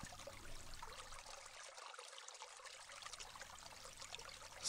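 A river flows in a soft, continuous trickle and stream, faint and steady, with light bubbling and no voices.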